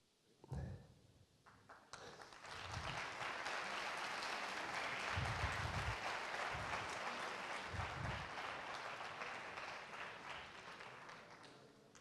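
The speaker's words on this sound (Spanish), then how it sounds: "gracias por el aplauso" An audience at a talk breaks into sustained applause, a dense wash of clapping that swells after an opening tap and holds steady for about ten seconds before easing slightly, with a few low thumps underneath.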